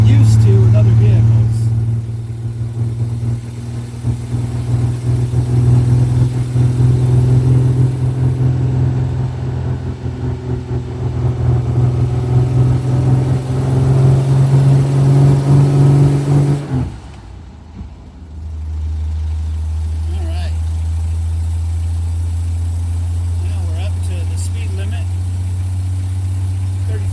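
A 1953 Hudson Super Wasp out on its first drive since 1979, its engine a steady low drone heard from inside the cabin before dropping to a quieter, lower hum near the end, with a person talking throughout.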